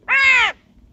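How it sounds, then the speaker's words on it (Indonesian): A single loud, close caw from a crow suffering from Newcastle disease, one harsh drawn-out call that stops abruptly and leaves near silence. "seperti gagak ini ya"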